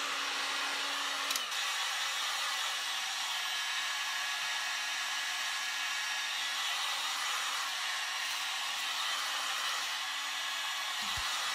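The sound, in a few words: heat gun removing stickers from tables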